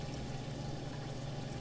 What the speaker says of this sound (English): you can see the ATO pipe dumps in water as planned